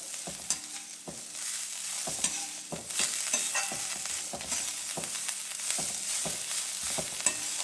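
Chopped ridge gourd and coriander leaves sizzle in a hot pan for thuvaiyal, a steady frying hiss broken by regular scraping stirs of a spatula, close and continuous with no speech.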